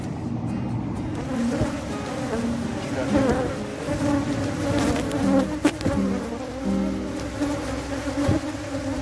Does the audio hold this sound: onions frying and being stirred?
no